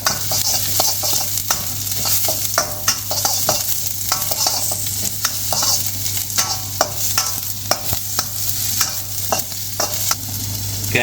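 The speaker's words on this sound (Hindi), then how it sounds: "इसमें मैं स्लाइस अनियन डाल दूँगा।" Sliced onions sauté with garlic in a hot pan for vegetarian stir fry rice: a continuous loud sizzle broken by frequent sharp clacks of a utensil stirring and scraping, with no voices.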